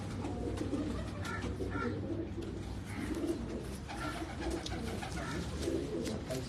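Pigeons coo in soft repeated phrases over a steady murmur of background noise, several birds calling faintly at once with no clear voices.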